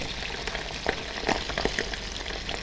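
Pork deep-frying in hot, fully boiling oil until crisp, a dense continuous crackle and sizzle with rapid popping bubbles, close and fairly loud, with no voices.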